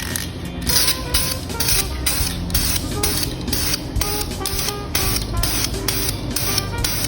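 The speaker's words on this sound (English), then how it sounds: "I'm using the rattle can, so you just want to kind of do a sweeping motion." Spray paint rattle can coating a revolver, a loud continuous hissing spray close to the microphone, pulsing in short regular sweeps with brief gaps between passes.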